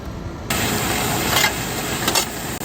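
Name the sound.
seed drill rattling while sowing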